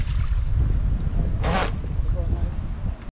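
A Napan rigger RC boat runs across water with a steady motor whine and splashing, buffeted by wind noise on the microphone, with a brief zipper-like rasp near the middle.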